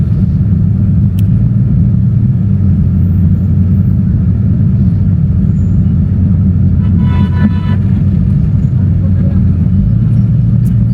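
Heavy traffic on the Islamabad Expressway near a blocked bridge rumbles loudly and continuously, with a brief cluster of horn toots partway through and someone speaking over the din.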